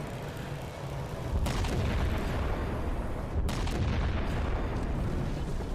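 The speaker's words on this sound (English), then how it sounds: "He looked at an explosion." Heavy explosions rumble through a Halo 4 mission, a sustained loud roar of blasts and debris with a couple of sharp, cracking bursts layered over the booming wash.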